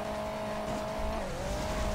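A car in the video game Hill Climb Racing 2 skids with a sustained tonal tire squeal that dips in pitch midway, over a low engine drone.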